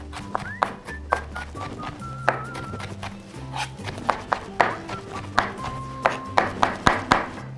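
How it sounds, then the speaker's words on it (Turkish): A knife chops red pepper, green pepper, garlic and parsley on a board for a Kilis tava, with a steady run of crisp, close thunks that quicken into sharper, louder strikes toward the end. "Şimdi sebzelerimi güzelce doğradım."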